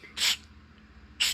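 Two short aerosol spray bursts of cleaner into a volume control, the first about a quarter second long, the second briefer a moment later, close and hissing, with quiet between.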